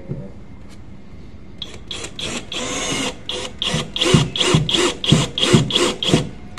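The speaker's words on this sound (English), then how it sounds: "on camera we're going to drill straight through it." A power drill grinds through a hollow plastic panel to make a hole for a back-up camera cable plug, in a string of rhythmic, raspy bursts, close up and growing louder as it works.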